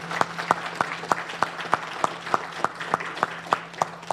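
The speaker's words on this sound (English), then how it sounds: "let's give her a round of applause for the work that she's doing" Sparse, rhythmic clapping of about a dozen even claps at a public government event in New York City, steady and fairly close with a low constant hum beneath.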